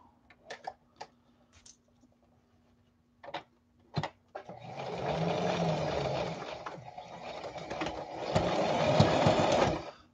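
Sewing machine stitching a seam on technician coveralls up to the armpit, a few clicks and taps first, then a steady close whirring run for several seconds that rises toward the end.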